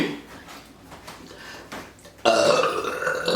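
On-command burping: a loud, drawn-out belch bursts in near the end after a stretch of softer throaty sounds, close and prominent with no talking.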